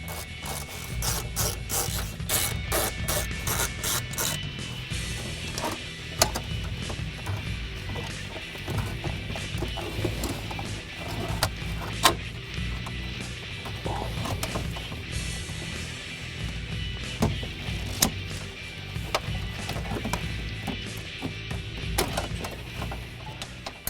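Radio bezel screws come out of a 1967-1973 Mustang dash with a steady, busy ratcheting and clicking of a hand tool, continuous and close throughout, with occasional sharper metallic taps.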